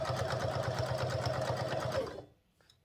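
A sewing machine runs close by as a shirt collar is stitched, a rapid, even mechanical rattle for about two seconds before stopping abruptly.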